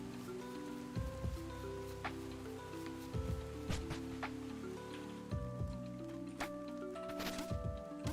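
Steady rainfall in a video game hisses evenly throughout, mixed with sustained musical tones and occasional soft splashy hits.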